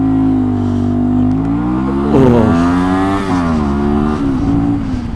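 Motorcycle engine revving on a ride down a city street, a steady loud drone that rises in pitch, dips and climbs again through gear changes, with no talking.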